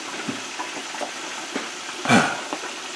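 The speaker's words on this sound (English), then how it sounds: "The wings are cooking." Chicken wings fry in oil at about 350 to 360 degrees inside a closed, lidded fryer, giving a low steady sizzle with one brief louder bubbling surge near the end, heard alone without talk.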